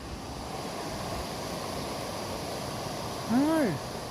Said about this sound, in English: Oh, beautiful little river.